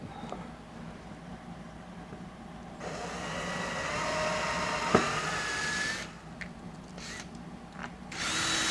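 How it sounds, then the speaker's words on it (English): Step drill bit boring through a part for covering element electrical connections, a steady close grinding whir that builds midway, then cuts off and restarts in short bursts. "But these step bits work really, really good."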